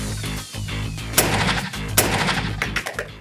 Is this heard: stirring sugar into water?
no